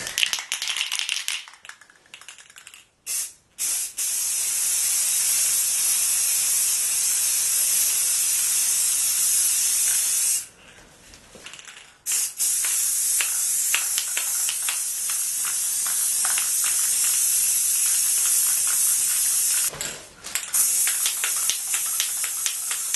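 Spray paint hissing from an aerosol can onto a GameCube shell, long steady bursts broken by brief pauses, close and loud with no talking.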